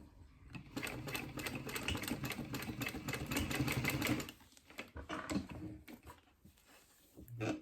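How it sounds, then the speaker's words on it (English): A sewing machine stitching a vinyl watch strap whirs close and steadily for about four seconds, then stops and restarts briefly, with a person speaking quietly around it. "put my foot down, and I'm going to stitch one, go back"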